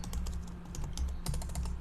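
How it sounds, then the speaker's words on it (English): Rapid light keystrokes clatter on a computer keyboard at close range, with no voices. "You can type Wireshark"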